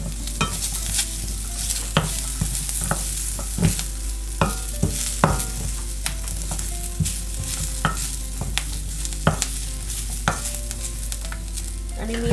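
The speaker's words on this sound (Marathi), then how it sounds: "ह्याच्यामध्ये हे जे आलं आणि लसूण घेतले होते ते टाकले, हे चांगलं परतून घेऊया।" Ginger and garlic being sautéed in ground masala paste for Malvani crab masala, a continuous close sizzle broken by regular scraping and tapping strokes of a spatula against the pan, with no voices.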